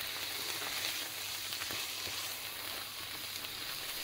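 Vegetables fry in a pan with salt added, giving a steady, close crackling sizzle with faint stirring scrapes and no talking.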